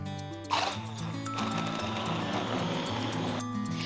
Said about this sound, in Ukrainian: І продовжуємо збивати.